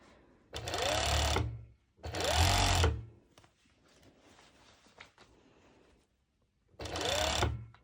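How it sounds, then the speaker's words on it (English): A serger sewing machine stitches a fabric band for a sporty racerback top. It runs in three loud, close bursts of about a second each, with quiet fabric handling between them. "I'm going to serge the band"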